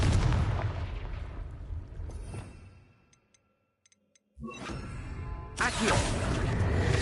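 Confringo fire spell cast in the video game Hogwarts Legacy on PS5, a loud burst that fades over a couple of seconds, then near-silence before another booming blast and sustained rumble.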